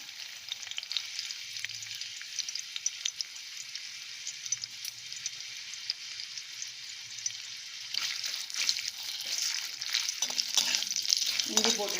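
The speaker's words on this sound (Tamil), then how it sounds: "இதில் நல்ல ஒரு பெரிய பீஸ் இஞ்சி இந்த மாதிரி கட் பண்ணி சேர்த்துக்கிறேன்." Cut ginger pieces frying in a little oil in a kadai, a steady close sizzle that grows louder and busier toward the end, with no talk.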